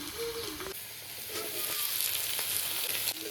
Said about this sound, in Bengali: বাদ বাকি তেলে বেগুন আর আলুটা দিয়ে দেব ভালো করে এবার বেগুনটা ভেজে নেব